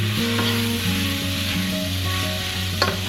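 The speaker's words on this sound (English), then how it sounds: "And now I'm gonna add to this my onions and my garlic." Chopped onion and garlic hit browned ground beef in a pot, giving a steady close sizzle under a low humming tone, with a sharp stirring scrape near the end.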